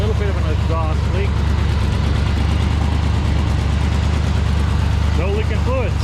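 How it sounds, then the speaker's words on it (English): A Chevrolet Chevelle V8 engine, long neglected and with a slight exhaust leak, idles steadily at around 900 RPM, a loud continuous low rumble close by, with someone speaking over it. "So I got her fired up here, idling right around 900 RPM."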